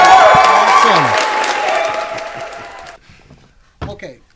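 An audience at a live comics panel in a comic shop breaks into loud applause and cheering that fades out after about three seconds, followed by a brief spoken remark.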